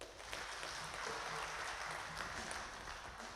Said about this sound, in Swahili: Tuwapigie makofi